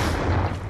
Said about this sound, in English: That shotgun is awesome.